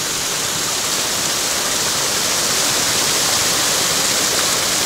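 A large, long waterfall spilling out of crevices in the rock near Karuizawa, giving a loud, steady, broadband roar of rushing water that holds constant throughout with no voices.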